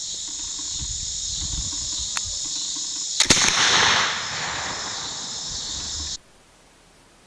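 An American long rifle fires after a hang fire: a sharp snap, then a loud booming discharge that decays slowly. Crickets chirp steadily outdoors in the background before the scene falls quiet.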